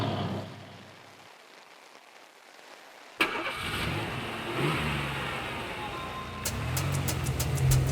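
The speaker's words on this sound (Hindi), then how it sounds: "पता है तो चलाइए ना गाड़ी।" A car engine turns over and catches with a sudden loud start after a quiet stretch, then idles and revs steadily, close by.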